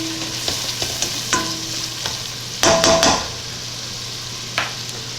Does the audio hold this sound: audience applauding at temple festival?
no